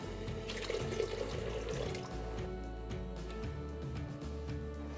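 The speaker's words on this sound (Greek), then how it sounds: "τώρα θα το ρίξω μέσα στο βραστό νερό και θα το ανακατέψω" Cornflour mixture is poured into boiling water and stirred, giving a close, continuous splashing and sloshing liquid sound with faint knocks from stirring, and no one speaking.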